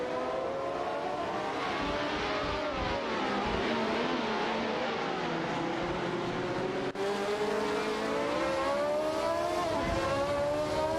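Race car engines in an AI racing video game, including a Fittipaldi FD03 and a Ferrari 312T, wail continuously with revs sweeping up and down as the cars jostle for position, with no voices over them.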